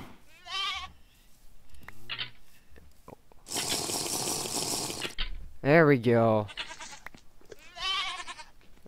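Goats from a Minecraft Mo Creatures mod give several loud, nasal bleats in short separate calls, with a burst of rattling noise between them and a brief spoken line.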